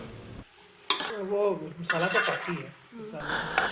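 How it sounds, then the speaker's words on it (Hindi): Chicken macaroni is stirred in a pan, a spoon scraping and mixing in bursts over a soft sizzle, with someone talking between and over the stirring. "ये देख लें कि मैक्रोनी मिक्स हो रही है अच्छे से"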